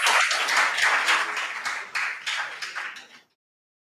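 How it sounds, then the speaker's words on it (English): A round of applause at a junior high school quiz contest, dense and steady for about three seconds, then thinning into scattered claps before cutting to silence. "Give them a round of applause."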